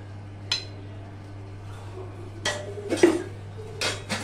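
Rice being served onto a plate for a dal fry meal: a few sharp spoon-on-plate clinks and scrapes, close and fairly quiet, spaced irregularly over a low steady hum.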